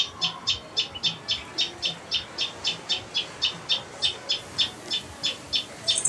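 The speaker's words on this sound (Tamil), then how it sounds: "இது தமிழில் தையல் பறவை, ஆங்கிலத்தில் டெய்லர் பேர்ட்னு சொல்கிறோம்" A tailorbird calls in a steady, rapid series of about eighteen sharp, high chirps at an even rhythm, fairly clear over a quiet outdoor background.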